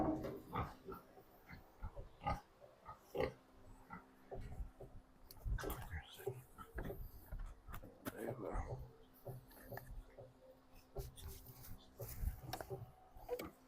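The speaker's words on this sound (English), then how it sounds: "Just a pile of pigs." A pile of pigs lying together outdoors gives off soft, scattered grunts and snorts that come and go at low volume.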